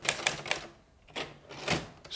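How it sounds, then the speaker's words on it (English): Ernest Hemingway's old typewriter types in bursts of crisp mechanical key strikes, several sharp clacks in uneven rhythm with a brief pause in the middle, close and clear. "it's a wonderful old typewriter."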